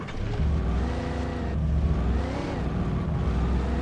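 A car driving in the game Alan Wake Remastered, a steady loud engine drone with layered harmonic whine and slight rises in revs, alone without talk.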